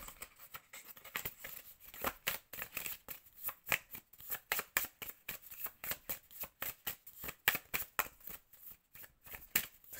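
Thin, flimsy playing cards being shuffled by hand, a long run of quick riffling bursts in an uneven rhythm, close and fairly loud with no talking over it.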